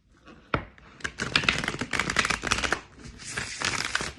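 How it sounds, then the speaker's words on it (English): Playing cards being shuffled by hand, a run of quick riffling, flapping bursts with short pauses between them, close and fairly loud, with no voices. "I don't know why I keep shuffling these cards."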